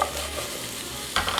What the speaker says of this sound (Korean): 앞에 썰어 놓았던 당근과 감자로 디글레이징 해줄 거예요